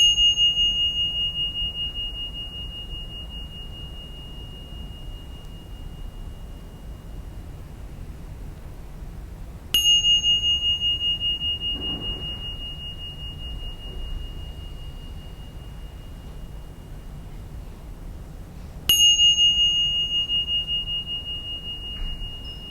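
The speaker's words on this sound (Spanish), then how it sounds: "siguiendo el sonido de las campanillas con plena atención, desde el principio hasta el final" Three small bell strikes at a mindfulness meditation session, each a clear high ring that decays slowly, evenly spaced about nine seconds apart in near silence.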